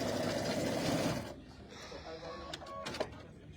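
Sewing machine stitching a quilted tabletop banner, a fast steady buzzing run for about a second that then stops, followed by a few light clicks and someone talking nearby.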